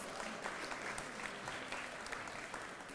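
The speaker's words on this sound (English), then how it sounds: "Give him a round of applause." An audience at Michigan Muslim Capitol Day applauds its new executive director, a dense, continuous wash of many hands clapping together, steady and fairly distant, with faint crowd murmur beneath.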